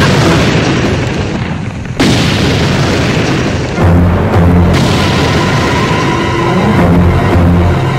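Bomb blast explosion in a Telugu film scene: loud, dense booming rumble with an abrupt jolt near the middle and continuing heavy roar and crackle throughout, no talking.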